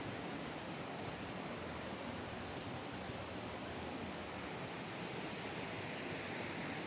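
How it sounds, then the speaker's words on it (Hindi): A river flows beside a village near a washed-out bridge, a faint, even rushing hiss of water that holds steady throughout with no voices. "ये साथ दरिया है"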